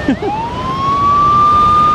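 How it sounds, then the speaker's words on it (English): A loud dam siren rising in pitch and then holding a steady wail, with a brief voice at the start. "you can hear the siren going right now."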